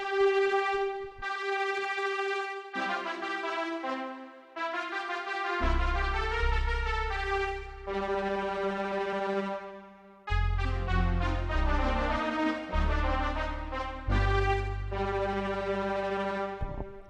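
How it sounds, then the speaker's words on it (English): Sustained string-ensemble notes from a Prestige Plus keyboard, played in chords with the tremolo effect built into the sound, over deep bass notes that enter partway through. Phrases change every second or two and nobody speaks. "it says tremolo strings, and this is strings that you normally would have to go like this to play and get that effect"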